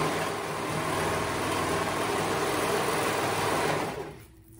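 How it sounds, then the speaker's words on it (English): A sewing machine stitching the raw edges of a dress skirt together, a continuous close mechanical whir that runs steadily for about four seconds and then stops abruptly. "I am going to sew those raw edges together, so that it can be one continuous circle"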